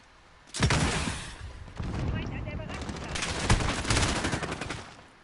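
Gunfire in the Call of Duty Modern Warfare video game, loud automatic bursts and repeated shots over several seconds, with voices talking underneath.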